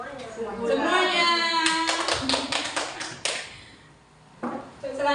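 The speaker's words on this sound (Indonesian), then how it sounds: "Tepuk tangan buat semuanya." A small group in a classroom-style session claps briefly in a ragged burst, with voices talking before and after the few seconds of clapping.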